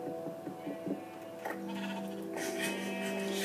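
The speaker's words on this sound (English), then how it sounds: "Sheep are so annoying." Repeated bleats from Minecraft sheep on Xbox 360, a string of short wobbling baas building to a louder, longer cry near the end, with no one talking.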